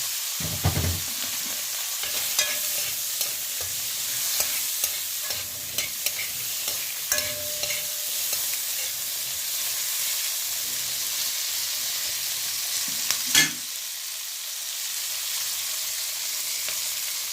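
Carrot, sweet pepper, garlic and potato fry in a pan for a Jamaican fish dish, a steady sizzle running under repeated scrapes and stirring clatter, with one sharper knock near the end.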